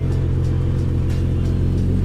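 A Nissan 370Z engine, fitted with a GKTech differential brace and transmission mount, runs just after starting up. A loud, steady low rumble with a slight vibrating pulse continues close by.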